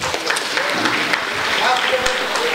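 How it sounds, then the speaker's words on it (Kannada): An audience at a Davangere employees' cooperative society function claps for students, a dense, steady applause blended with overlapping talk. "ಈ ವಿದ್ಯಾರ್ಥಿಗಳಿಗಾಗಿ ತಮ್ಮದೊಂದು ದೊಡ್ಡದಾದ ಚಪ್ಪಾಳೆ"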